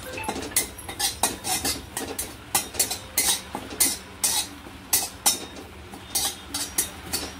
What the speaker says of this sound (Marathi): गरम कढईमध्ये हा आता परतते कढीपत्ता, म्हणजे तो जळणार नाही खूप